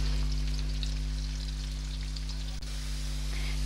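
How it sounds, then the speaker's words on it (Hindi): Onions fry in a pan over high heat with a steady, fine crackling sizzle over a low constant hum, holding an even level throughout. "अब मैं इसे ज़रा तेज़ आंच पे फ्राई कर लेती हूँ जल्दी जल्दी"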